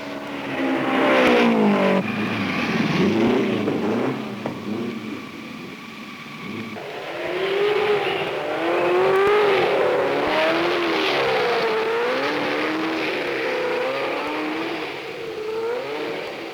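1975 IndyCar race cars streak around the track, their engines rising and falling in layered whining passes at moderate distance, with a continuous roar that swells and fades under no speech.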